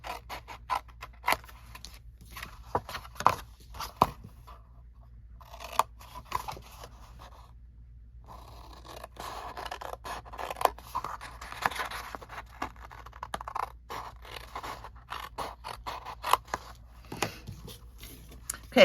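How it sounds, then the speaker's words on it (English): Scissors snipping paper along score lines for a Christmas craft project, a quiet series of close, uneven cutting clicks and rasps with some pauses. "So just cut into the score line, and then you could use your trimmer for this part."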